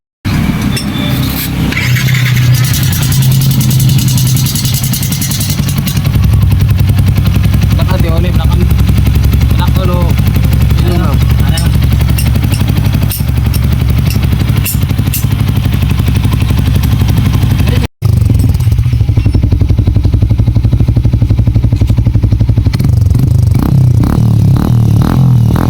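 A Sniper 150 motorcycle fitted with an aftermarket exhaust pipe runs close and loud, a continuous engine roar with revving swells and a brief cut, while people talk over it.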